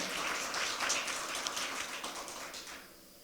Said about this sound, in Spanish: Dele el aplauso al Señor en esta mañana, sin temor.